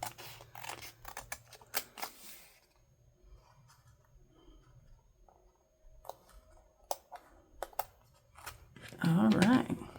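Crisp snips of scissors trimming paper for a handmade journal come close up in short clusters, separated by quiet stretches, with a louder humming rustle at the end.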